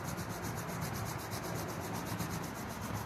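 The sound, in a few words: rubbing palms of the hands together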